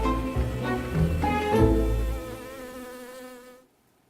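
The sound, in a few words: bee flying and buzzing through the CERN complex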